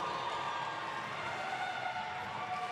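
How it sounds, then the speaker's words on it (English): A roller derby crowd at a grand final roars in a packed hall, a dense, sustained wash of cheering and shouting that stays loud and even throughout, with no single voice standing out. "The noise in the room is now nearly deafening."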